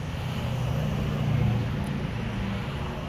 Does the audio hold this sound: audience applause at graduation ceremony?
no